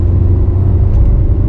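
A 2022 Hyundai Santa Cruz with a turbo inline-4 accelerates hard, a loud, close, deep engine drone and road rumble sustained evenly from the cabin.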